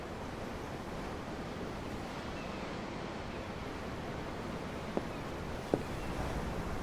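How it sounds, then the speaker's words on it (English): Ocean waves heard from aboard a ship at sea: a steady, unbroken wash of surf noise that fills the whole stretch, with two faint sharp clicks near the end and no voices. "The waves. They help me think."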